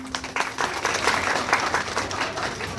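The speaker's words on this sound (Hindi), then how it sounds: "जोरदार तालियां" Loud, dense applause fills a Buddhist-rite wedding ceremony, a crowd clapping steadily and close throughout with no one talking over it.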